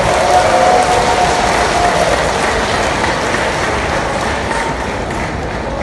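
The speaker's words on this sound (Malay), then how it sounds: "Dari Dewan ini tepukan gemuruh." Thunderous applause from a packed assembly hall audience at a political party event, a dense continuous wash of clapping that starts loud and eases slightly over several seconds.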